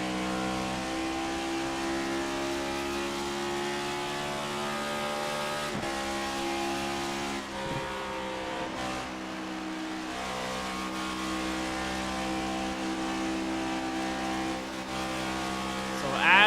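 Cup Series stock cars lap Darlington in a racing video game, their engines droning as a loud, continuous roar with shifting pitch and brief revving dips, heard under a race commentator's voice.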